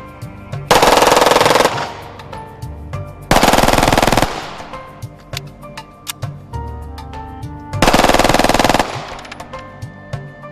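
A Zigana F63 pistol with a 20-round magazine fires fully automatic bursts: three loud, near ripping strings of rapid shots, each about a second long, separated by quieter mechanical clicks and ringing, with no talking.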